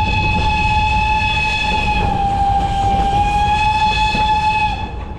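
The Moldovița steam train in Bukovina, Romania, running along its line toward Argel, gives a loud sustained multi-tone whistle over a rumbling rolling roar, held for several seconds and then easing off.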